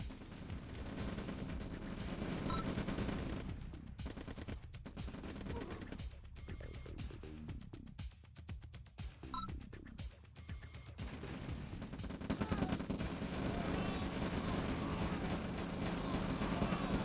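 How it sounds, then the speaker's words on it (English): Yak aircraft strafe with rapid gunfire in OpenRA Red Alert, a quiet, dense rattle of shots and mechanical clatter that thins briefly in the middle before resuming, with soft voices talking over it. "Nice yak strafe, man"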